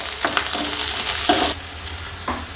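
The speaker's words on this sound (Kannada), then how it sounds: "ಈರುಳ್ಳಿ ಫ್ರೈ ಮಾಡ್ಕೋಬೇಕ್ರಿ." Onion frying in a pan with curry leaves for a flat beans palya, a loud continuous close sizzle broken by a few scraping stirs of the spatula, with no one talking.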